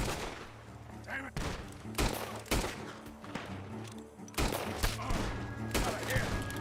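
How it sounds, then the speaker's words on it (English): Gunfire in Red Dead Redemption 2 from a barn: a rapid volley of sharp, loud shots in irregular bursts, with several distinct cracks, set against game background sound and intermittent voices. "Gunshots are coming from that barn."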